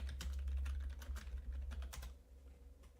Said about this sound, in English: I'm just going to type in her name.